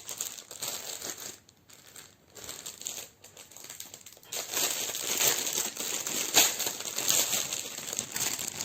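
Packaging for cross-stitch supplies crinkles and rustles nearby as it is unwrapped, with soft irregular handling noises that grow louder and denser in the second half.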